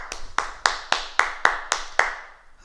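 A small class claps together after a martial-movement exercise, eight sharp, evenly spaced claps close by, each with a short decay, with no talk over them.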